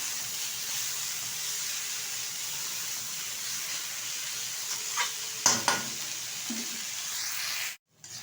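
Bamni greens fry with onion, potato and shrimp in a pan, giving a steady, even sizzle throughout, broken near the end by a few spatula clanks and stirring scrapes before it cuts off.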